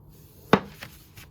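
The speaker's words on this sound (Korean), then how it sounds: "선 맞춰서 이렇게 자, 돌려가면서 이렇게 칼질을 해주시면 돼요." A knife slicing through a block of floral foam for a flower arrangement: one crisp, fairly loud cut, followed by two fainter scraping strokes in an otherwise quiet room.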